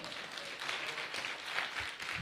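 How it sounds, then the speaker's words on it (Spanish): A church congregation applauds after a sermon line, producing steady, fairly faint crowd clapping with a dense, even texture throughout. "dale un aplauso al Señor"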